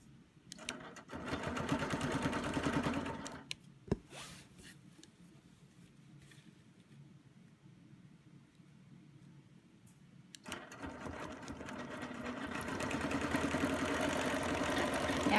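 A sewing machine stitching a quilt runs in two steady, fairly close bursts of rapid mechanical whirring, split by a quiet pause broken by one sharp click, with no talking.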